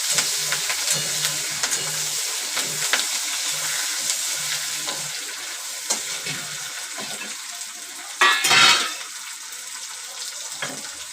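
Curry leaves, oil and snack mix for bhadang roasting and being stirred in a pan, giving a steady soft sizzle with scraping stir strokes and a brief louder burst near the end, no talk.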